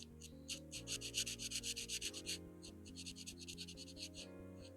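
Colored pencils rubbing on coloring book paper, a soft rhythmic scratching in quick repeated strokes over a faint steady background tone.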